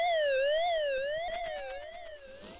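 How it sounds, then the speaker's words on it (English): A wailing prison alarm siren from a ZX Spectrum video game, its electronic tone sweeping up and down in steady cycles, loud and alone, with a faster warbling pulse taking over partway through. "God, I wouldn't like to wake up to that siren."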